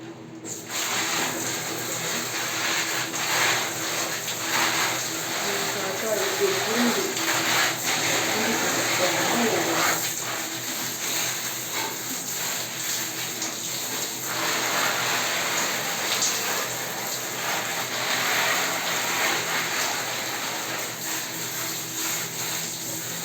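Water sprays onto dusty artificial plants and flowers, a continuous hissing wash that runs steadily throughout, close and fairly loud, with a thin high whine underneath.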